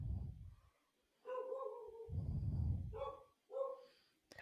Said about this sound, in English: Apologize for the dogs, if you can hear them.